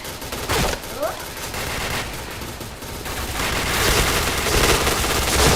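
Dense, continuous gunfire and explosions from a shooting video game roar throughout, with rapid bursts layered over a busy game soundtrack.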